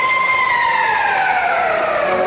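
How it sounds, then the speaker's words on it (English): Ice hockey arena siren sounding the end of a period at a 1976 Canada Cup game between the Soviet Union and Sweden, a loud sustained wail with steady harmonic tones that slowly fall in pitch. "Hedberg is ridden out of the play by Freakonoff. And against the boards as the siren goes"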